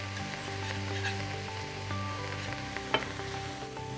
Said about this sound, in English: I'm going to keep whisking this so we get a nice roux going